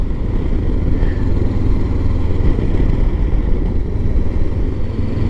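A Honda CB500X twin motorcycle on a relaxed ride, its engine a steady low, even drone mixed with wind rush, continuous and close throughout with no talk.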